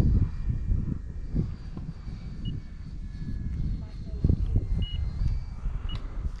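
A Freewing BAE Hawk RC model jet flies its maiden flight at the Wallkill field, giving a steady, fairly loud whirring drone with rising and falling surges, while people nearby talk over it.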